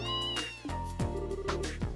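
A cat meows in the Trails in the Sky video game, three or four short, tonal cries in quick succession over a soft game music bed.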